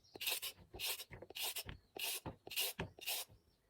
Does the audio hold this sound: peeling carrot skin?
yes